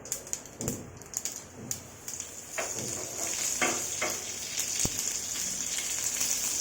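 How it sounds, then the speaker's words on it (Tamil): Mustard seeds and curry leaves crackle and sizzle in hot oil while cooking liver gravy, with a few sharp pops early on settling into a continuous close frying hiss. "எண்ணெய் விட்டு கடுகு போட்டு கடுகு பொருந்த பிறகு நம்ம கருவேப்பிலை சேர்த்துக்கலாம்"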